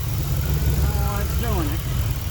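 A throttle-body-injected engine idles close by with a steady low rumble, while a voice speaks briefly over it.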